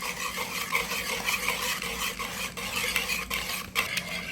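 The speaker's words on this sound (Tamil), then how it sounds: "பால்கோவா, சர்க்கரை, முட்டை எல்லாம் போட்டு நல்லா மிக்ஸ் பண்ணிட்டோம்." A spoon stirs a thick mixture of palkova, sugar and egg for an egg sweet, giving a steady close scraping and swishing against the pan with light clinks, continuous throughout with no talking.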